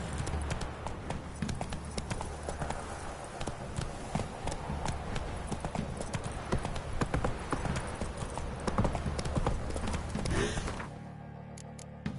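Roach the horse gallops in The Witcher 3, hooves clip-clopping in a fast, steady rhythm close by, loud and continuous before cutting off near the end.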